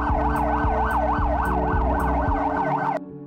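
An ambulance siren wails loudly and close, its rising-and-falling tone cycling steadily for about three seconds before cutting off abruptly, leaving a low rumble.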